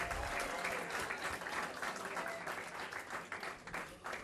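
Students in a business communication class applaud as chapter one wraps up, a continuous, fairly soft wash of many hands clapping at once.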